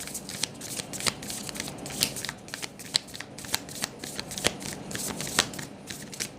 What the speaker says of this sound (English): I'm going to do one more round of shuffling this way